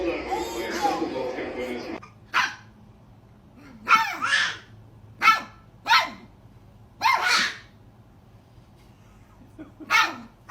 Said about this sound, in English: Are you barking at each other?